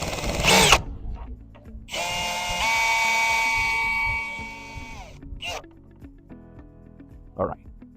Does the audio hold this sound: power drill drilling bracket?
yes